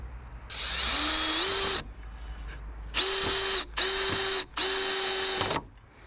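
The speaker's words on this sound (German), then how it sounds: "Das Ganze hier wird jetzt wieder mit den großen Schrauben festgemacht, mit den 40er Schrauben." A power driver sinks large 40 mm screws into very soft wood without pre-drilling, in four separate whirring bursts that each rise in pitch and then hold steady, close and loud, with short pauses between them.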